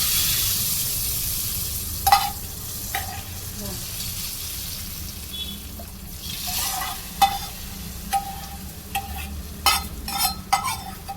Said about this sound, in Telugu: స్టవ్ ఆఫ్ చేసుకొని తాలింపు ఇందులో వేసుకోండి